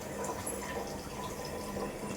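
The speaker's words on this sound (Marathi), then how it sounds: "आता पाणी भरून घेऊया" Tap water running into four bottles being filled at a faucet, a steady, close, soft rushing stream with no pauses and no talk.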